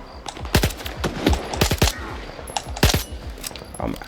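Gunfire in the STALKER 2 video game: loud bursts of rapid shots, some in quick automatic strings, spread unevenly across a few seconds with brief gaps between volleys.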